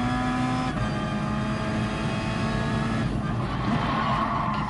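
Race car engine in Gran Turismo Sport driven with traction control off, a steady loud drone with a shift into third gear partway through, then the engine pulls again on up through the revs.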